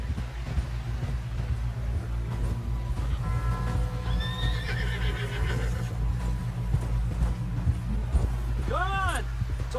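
In the Red Dead Redemption 2 video game, a horse whinnies loudly near the end while hoofbeats and ambient noise play beneath, with characters speaking throughout.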